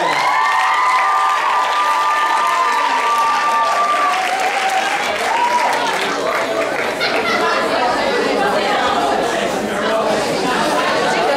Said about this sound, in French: s'il vous plaît, on les applaudit, mesdames, messieurs